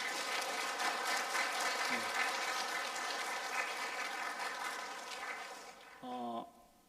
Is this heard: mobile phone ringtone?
no